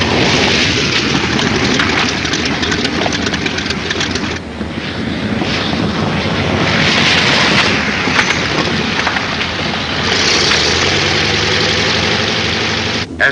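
A plane flies in to land on an aircraft carrier amid a constant loud engine roar and wind-like rush on an old, noisy recording, with a low rumbling swell near the end.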